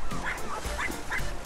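A puppy yips and whimpers in a string of short, high barks and whines, several in quick succession, close by over a constant background.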